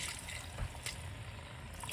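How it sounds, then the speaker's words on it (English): A short, steady trickle of water poured close by into a thick sauce for awaze tibs, with a faint splash partway through. "so I'm just going to add a little bit of water."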